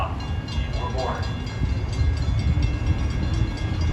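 Metra inbound commuter train pulling into Elgin station, a steady low rumble of rail cars with faint clatter, continuous and fairly close, with a station announcement voice heard over it.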